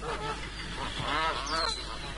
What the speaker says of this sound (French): j'ai ajouté des bruitages du cri des oies